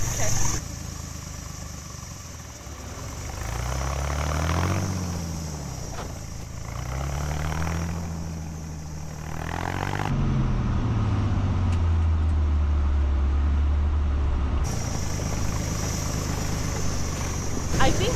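A 20,000 lb truck's engine drones and rises in pitch as it strains on a tow rope to pull a stuck truck across packed snow, loud and sustained, with some voices talking over it.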